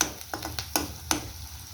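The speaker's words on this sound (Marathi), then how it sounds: "कढीपत्ता पण छानपैकी असं परतून घ्यायचा आहे" Curry leaves sauté in hot oil in a pan, giving a few sharp, close crackles and spits about every quarter second over a faint sizzle.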